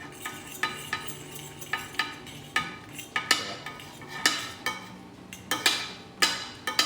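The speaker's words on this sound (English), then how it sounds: "what I'm doing is I'm mixing the mustard and the vinegar and oil" A fork clinks and scrapes in a rhythmic run against a bowl, whisking mustard, vinegar and olive oil into a dressing, with close, repeated sharp taps for several seconds.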